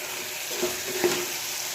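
Soft sizzling of spices and salt in a hot pan for khichdi, with a couple of light scraping stirs, brief and close.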